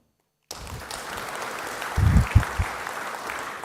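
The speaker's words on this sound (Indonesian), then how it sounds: "tepuk tangan" Applause at an Indonesian presidential address praising the financial intelligence agency's work: after a brief silence, a broad crowd clapping rises and holds steady, with a few louder thumps partway through.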